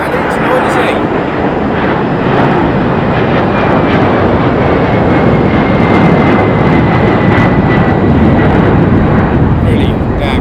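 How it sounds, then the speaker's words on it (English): A Delta Air Lines Boeing 767 jet departing London Heathrow for Atlanta, its engines roaring loud and close in a continuous, dense wash of sound, with a person speaking over the noise. "Delta Airlines, it's Boeing 767. It's going back to Atlanta and it's noisy."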